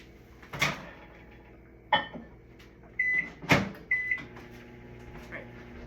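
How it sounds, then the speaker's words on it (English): Near a microwave oven, a few solid clunks like its door shutting mix with short electronic beeps, set against a faint low hum in an otherwise quiet kitchen. "I'm gonna pop this into the microwave for about 1 minute"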